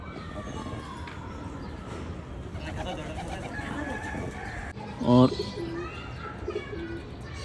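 A male pigeon coos in rhythmic, low calls beneath nearby talking, with other birds chirping around it and one louder burst standing out near the end.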